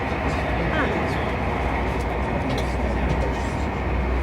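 A passenger train travelling from Paris toward Luxembourg in 2002 rumbles steadily from inside the carriage, a constant low roar of wheels on track with some muffled voices in the background.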